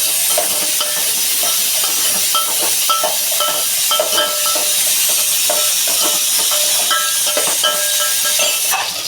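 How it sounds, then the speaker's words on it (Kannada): A pressure cooker on a home kitchen stove vents steam in a loud, continuous hissing whistle that runs the whole time, with faint stirring and sizzling from onions frying nearby. "ನೋಡಿ ಕುಕ್ಕರ್ ವಿಸಿಲ್ ಬರ್ತಾ ಇದೆ."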